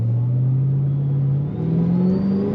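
A supercharged 2005 Ford Mustang Saleen S281 engine drones steadily while revving, with a rising high-pitched supercharger whine climbing over the low rumble throughout.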